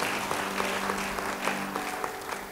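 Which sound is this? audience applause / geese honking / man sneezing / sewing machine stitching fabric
audience applause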